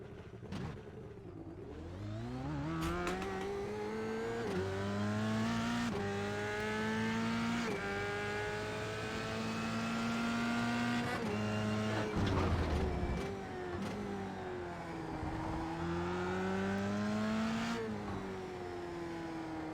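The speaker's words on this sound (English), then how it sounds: "So easy to hit the rev limiter on this thing." A race car engine on track revs and shifts repeatedly, pitch climbing and falling lap after lap and bouncing off the rev limiter, heard steady and fairly close from inside the car, with no talk.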